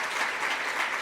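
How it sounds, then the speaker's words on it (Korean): Congregation applause at a Korean Sunday church service welcoming a guest, a brief burst of dense, even clapping lasting about a second. "박수로 환영하겠습니다."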